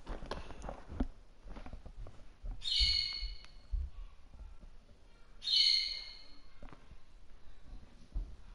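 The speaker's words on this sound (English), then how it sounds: "if you guys can hear any loud scream in the background, it's my bird" A pet bird lets out two loud, shrill screams a few seconds apart, piercing through a quieter background of soft clicks and faint game sounds.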